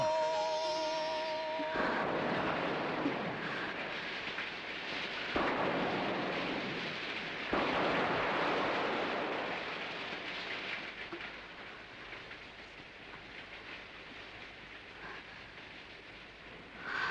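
Steady rain with rolling thunder in a film scene, a dense roar that swells in bursts around the third and eighth seconds and then settles into a continuous downpour; no voices.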